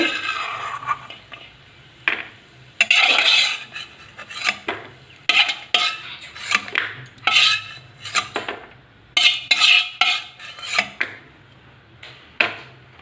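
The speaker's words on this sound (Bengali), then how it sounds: "কাজুগুলো ভাজা হয়ে গেছে এবারে নামিয়ে নেব" Cashews fried in ghee are scooped out of a pan, a series of sharp scraping and clinking strokes of a utensil against metal, irregular and close, alone without talk.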